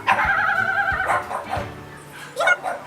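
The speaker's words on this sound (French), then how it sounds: "Je suis désolée pour les bruits des chiens derrière." Several dogs bark and yip behind a home setting, with a high whimpering whine and a few sharp barks mixed into a busy background at moderate distance.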